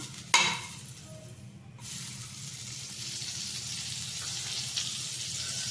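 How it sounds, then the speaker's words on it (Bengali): Butter sizzles on a hot tawa while bread fries, a steady low hiss after a sharp clatter at the start, close and even with no talking. "আমি এবার তাওয়াতে আর একটু বাটার দিয়ে দিচ্ছি"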